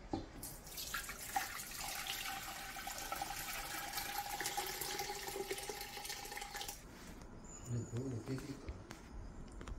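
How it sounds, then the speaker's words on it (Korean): Pumpkin sikhye, a sweet Korean rice drink, pours into a large pot in a continuous splashing gush, close and steady for several seconds before tailing off, with a voice briefly heard near the end. "큰 솥에 부어줍니다."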